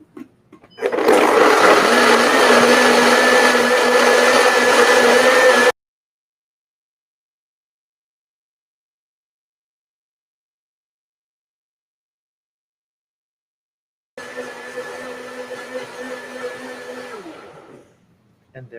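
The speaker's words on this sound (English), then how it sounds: "we're gonna go ahead and turn on the blender one more time" A blender whirs loudly through an avocado smoothie with ice in two runs, a dense steady roar for about five seconds, then silence, then a shorter, quieter second burst as the ice is incorporated.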